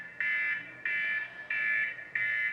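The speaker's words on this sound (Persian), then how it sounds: "اونقدر آروم این کار رو انجام میدم که دوباره صدای آلارم گوشی بلند میشه" A mobile phone alarm beeps in four steady, evenly spaced pulses, each a loud sustained electronic tone lasting about half a second, with no talk over it.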